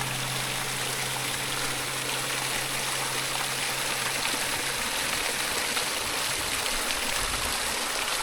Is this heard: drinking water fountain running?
yes